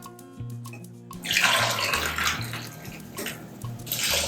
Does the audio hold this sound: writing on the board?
no